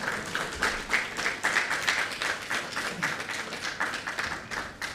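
Audience applause welcoming a speaker at the public-sector flexible work arrangement launch ceremony, a steady wash of clapping from a crowded hall, moderately loud and continuous without voices on top.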